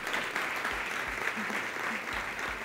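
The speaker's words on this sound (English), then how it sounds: "ladies and gentlemen, let's give them all a round of applause" An audience applauds the judges at the season finale of a television competition, with faint, steady clapping that continues evenly under a low room hum.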